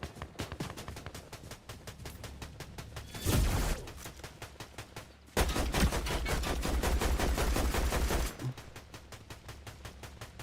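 Rapid automatic gunfire in a video game, a dense crackling stream of shots with two louder sustained bursts in the middle, fairly quiet overall and with no voices.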